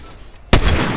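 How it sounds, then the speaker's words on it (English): Gunfire in the Fortnite battle royale game, a sudden loud burst of close shots erupting halfway through after a quieter ambient stretch, then sustained rattling. "Gunfire coming from behind you, it looks like."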